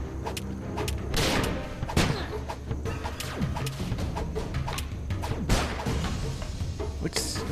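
Gunfire in the Starbound video game: dense, crashing shots and impacts go off constantly with whooshes and thuds, loud and busy throughout the scene.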